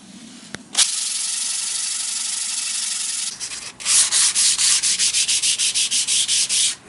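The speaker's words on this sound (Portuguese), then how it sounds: "Aí seco, eu vou começar a lixar da onde eu parei" A guitar headstock being hand-sanded with 150 grit sandpaper: one long steady rasping stroke, a short pause, then a run of about a dozen quick rhythmic back-and-forth scrubs, close and loud.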